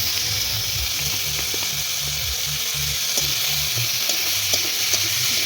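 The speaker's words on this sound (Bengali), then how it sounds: "এবার ভালো করে নাড়াচাড়া করে নিচ্ছি" A tomato dish seasoned with salt and turmeric sizzling and frying in a pan, with a steady hiss and occasional soft stirring clicks, close and continuous with no talk.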